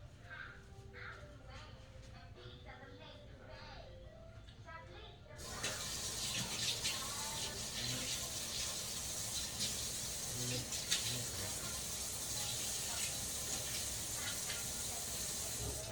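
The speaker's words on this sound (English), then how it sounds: "Hold on, I'm going to wash my hands." A kitchen tap turns on partway through and runs for hand washing while cooking, a steady hissing rush of water that continues evenly to the end, nearby, after some quieter room sound at the start.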